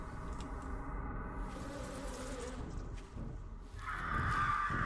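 Bees buzzing in the survival game 7 Days to Die, a steady insect drone that swells louder toward the end, with no talking over it.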